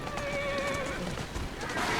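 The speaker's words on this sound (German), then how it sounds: "Ganz ruhig, Pferdchen," A horse in the video game Assassin's Creed Syndicate gives a loud, close whinny, a wavering neigh that rises and falls over about two seconds, with faint hoof clatter beneath.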